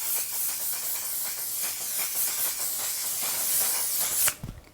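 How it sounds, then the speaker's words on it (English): A mattifying waterproof setting spray mists onto a face in a long, steady, close hiss lasting several seconds, ending abruptly with a faint click. "Now we are going to go in with the One Size Mattifying Waterproof Setting Spray"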